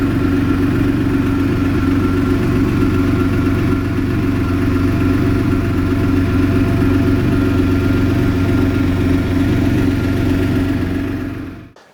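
A classic European car with hydraulic suspension idles steadily while warming up, a loud continuous low engine drone that holds even for about twelve seconds before cutting off abruptly at the end.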